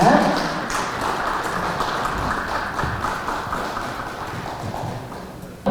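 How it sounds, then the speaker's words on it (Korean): An audience claps at a New Year art exhibition ceremony, a run of scattered hand claps that gradually thin out, with a voice speaking over them. "큰 박수 부탁드리겠습니다."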